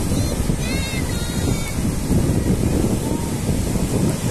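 Strong wind buffets the microphone at a crowded beach on a hot Carnival Saturday, a loud, continuous rumbling roar with surf mixed in and faint distant voices.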